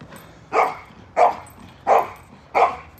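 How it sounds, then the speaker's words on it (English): A dog barks four times in an even rhythm across the street, each bark sharp and fairly loud, with no other sounds between them. "It's Joy doing all the barking, it sounds like."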